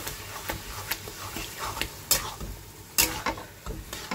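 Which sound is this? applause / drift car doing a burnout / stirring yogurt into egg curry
stirring yogurt into egg curry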